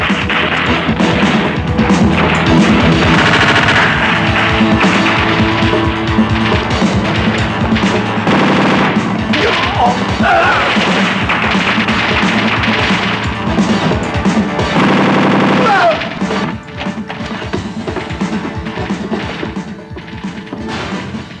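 Gunfire in a Filipino action film comes as a dense, continuous barrage of loud, sharp bursts and crashes over music, lasting most of the stretch before easing slightly near the end.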